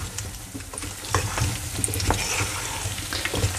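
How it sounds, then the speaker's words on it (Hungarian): Food frying and steaming in a pan with lard during outdoor cooking on the Costa Blanca coast in Spain, a steady dense sizzle with occasional stirring scrapes and pops, continuous and close. "hagyjuk ezt itt párolódni és sülni egyszerre."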